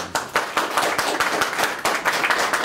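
A small group of people clap for a Wroclaw mayoral candidate at an indoor campaign gathering, steady close rhythmic applause with some sharper claps standing out.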